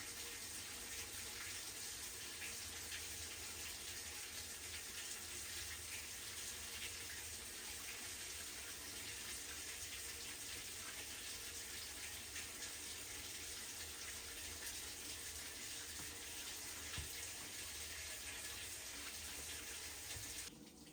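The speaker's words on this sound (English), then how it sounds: "The washer is letting water in." Whirlpool/Amana top-load washer with a faulty control board filling with water: a steady, loud hiss of water rushing into the tub, continuous and unchanging for about twenty seconds, with no talking.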